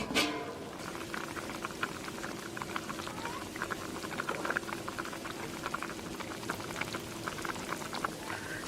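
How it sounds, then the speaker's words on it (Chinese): Pork knuckle with star anise, cinnamon, bay leaf and fennel simmers in a covered pot over low heat, a constant soft bubbling and gentle popping, close and even throughout. "最后来一把盐，盖上锅盖，小火炖上2个小时"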